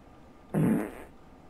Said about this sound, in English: Farting is currently in this.